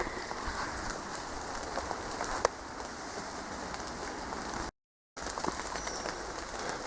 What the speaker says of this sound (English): Right, the rain's eased off a bit.